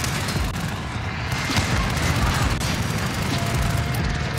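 Sustained rapid gunfire and booming blasts from an online Call of Duty: Modern Warfare match rattle on continuously at close range, dense and loud throughout with no pauses.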